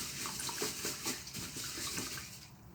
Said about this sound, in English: I'm going to take a couple fingers and just swirl it around.